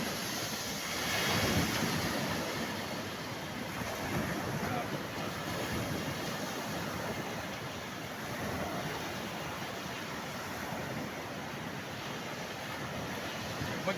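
Sea waves and gusting wind along the Bulusan coast ahead of Typhoon Pepito, a continuous roar of surf with wind buffeting the microphone, fairly faint and with no break.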